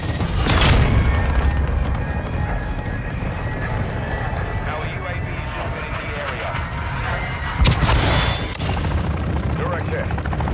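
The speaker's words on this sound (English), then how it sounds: "cruise missile inbound." A cruise missile explosion in the Call of Duty: Modern Warfare II video game, a loud booming blast over a constant heavy roar of helicopter rotors and battle noise.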